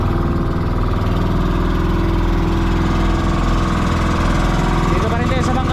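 A fishing boat's engine runs loud and close with a steady, throbbing chug at sea, while a voice speaks near the end.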